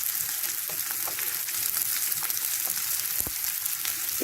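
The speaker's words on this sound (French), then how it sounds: "Quand c'est bien chaud, j'ajoute les oignons. Je mets mes oignons à revenir un petit peu." Chopped onions sizzle in hot olive oil in a pan, a continuous close hiss of frying with a few faint clicks, no voices.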